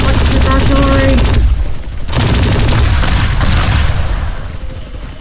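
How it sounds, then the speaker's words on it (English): Electric artillery fire from a giant robot tank in the video game Teardown: loud, dense bursts of booming, crackling fire that fill the clip, with a short lull midway before the barrage resumes. "Fire the electric artillery!"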